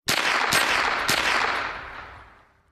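Simulated gunfire in a VR practical shooting game, with three sharp shots roughly half a second apart followed by a long, fading reverberant tail.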